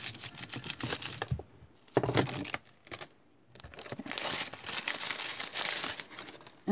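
Crumpled paper is pressed onto polymer clay to add texture, producing loud, close crinkling in several bursts separated by short pauses.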